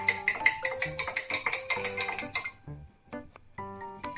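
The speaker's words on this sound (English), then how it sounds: "Give it a slight mix." A spoon clinks quickly and repeatedly against a glass while a sattu drink with black salt and lemon is stirred. The bright clicks are steady for a few seconds, pause briefly, then resume over soft tonal background sound.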